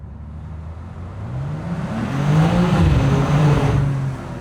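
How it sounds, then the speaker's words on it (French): A BMW M2 engine revs up close and loud, its pitch climbing steadily, holding a strong high note, then easing back slightly at the end, with no talking. "je parlais du bruit moteur qui est agréable"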